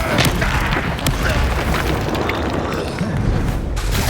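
Spell explosions from Confringo in Hogwarts Legacy battle, continuous heavy booming and crashing with scattered sharp bursts layered over a loud, dense combat din, with voices mixed in.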